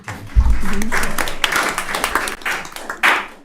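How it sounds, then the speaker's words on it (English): Audience members at a town council meeting clap after a public comment, a close, brisk burst of applause with a few voices talking over it, fading unevenly over about three seconds. "Oh yeah, we're not supposed to clap."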